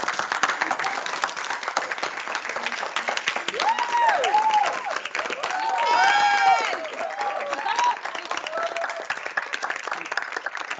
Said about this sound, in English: Can we stand up and clap for Professor Yes.